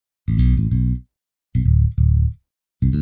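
An electric bass patch from a HALion Sonic expansion, DI-style with compression and amp, strung with clean strings, plays three short clear phrases of sustained low notes with bright overtones, each separated by brief silences.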